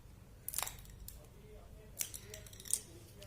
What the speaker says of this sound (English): We're going to cut them, say half.